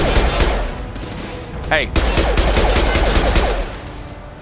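Rapid, loud gunfire bursts from an enemy turret in the game Mass Effect 2, dense and continuous, with other combat sounds mixed in and a brief spoken interjection.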